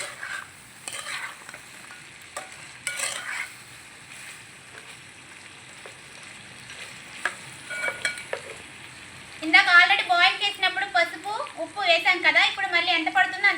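Boiled chicken is stirred in a pan with turmeric and salt, giving scraping and stirring clatter throughout, with a Telugu-speaking voice heard in the background.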